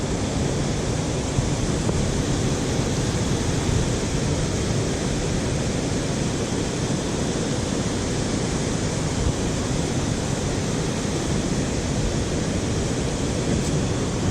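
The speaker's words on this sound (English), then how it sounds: "Sorry about the background, but you know, it's a waterfall." A waterfall beside Gunpowder Creek at Lake Hickory, North Carolina, gives a loud, steady, close rushing roar that fills the whole clip with no voices over it.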